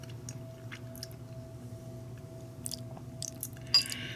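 Someone eats home-cooked macaroni with diced tomatoes; the faint, close, wet chewing comes in soft irregular squishes and bites over a quiet room hum.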